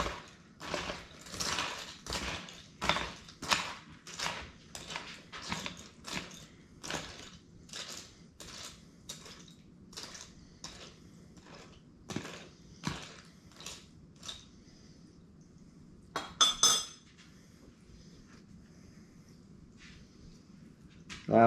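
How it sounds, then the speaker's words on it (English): A spoon stirs heavy whipping cream in a pan for smoked lobster bacon mac and cheese, making a steady run of close, rhythmic scraping strokes that stop near the end before a few last clinks. "Now I'm going to take my spoon"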